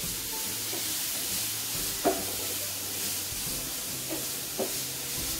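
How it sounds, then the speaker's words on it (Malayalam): Grated carrots sautéing in ghee give a soft, steady sizzle and hiss close by, with a few light scraping clicks from stirring scattered through the quiet frying. "നെയ്യിൽ ക്യാരറ്റ് വഴറ്റിയെടുക്കാം."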